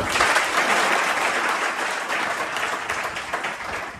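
A classroom audience applauds a topper student in physics and chemistry, a steady, fairly close round of clapping that runs without a break.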